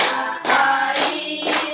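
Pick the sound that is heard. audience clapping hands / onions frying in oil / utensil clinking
audience clapping hands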